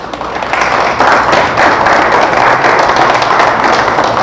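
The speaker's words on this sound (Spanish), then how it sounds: "¿Le damos un fuerte aplauso al Señor?" A church congregation claps together for the Lord during a Spanish-language sermon, a lively, close burst of many hands that swells after the first second and keeps a steady, choppy rhythm to the end.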